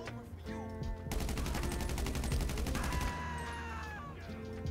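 Sustained rapid gunfire in GTA V as a player shoots through a wall, a dense burst of automatic shots that stays loud and continuous for about two seconds before easing off under lingering game ambience.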